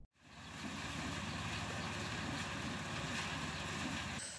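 A rice threshing machine cleans paddy in a village in South Tapanuli, Indonesia, running with a steady, loud mechanical drone and rattling hum that stays constant throughout.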